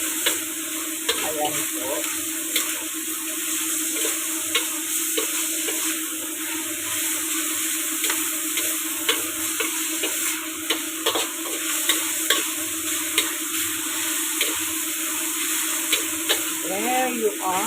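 Eggplant fries in oil with minced pork in a pan, a constant close sizzle broken by frequent scraping stir clicks over about eighteen seconds, with a brief spoken remark.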